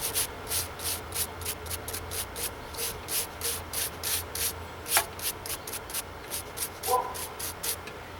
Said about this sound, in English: I'm going to go through with a detail brush. This is a nylon bristle brush